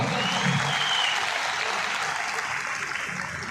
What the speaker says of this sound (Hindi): दोनों हाथ उठाइए और जोरदार तालियों के साथ अभिनंदन करिए इन सबका।